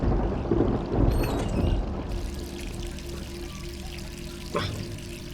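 Tap water running in a bathroom in the Resident Evil 3 Remake: a steady pouring rush, louder at first then settling into a continuous stream, with a brief knock near the end and some talk.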